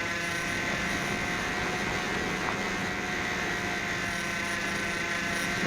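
A small electric motor and propeller on a camera-equipped RC airplane, XK A600 or WLToys F959 type, drones steadily and near-constantly as the throttle is reduced, with no voices over it.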